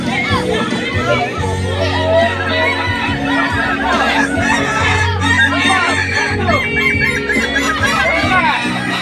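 Kukuak Balenggek roosters crowing at a chicken contest in Padang, several long drawn-out crows overlapping amid a busy crowd with people talking and clucking nearby.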